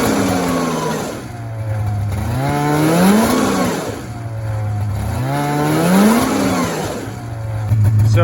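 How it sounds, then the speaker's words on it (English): A 1994 Polaris Indy 440 snowmobile engine, rear propped up off the ground, revs up repeatedly in loud, close, rising and falling sweeps from a droning idle, with a brief bog before it climbs. "I'm gonna try and rev it up and see if I can get it to rev up a bit here."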